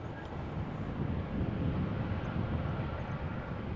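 A heavy jet airliner taxiing at Amsterdam Schiphol Airport, its engines a steady low roar with a gentle swell midway, heard from a distance under some wind noise.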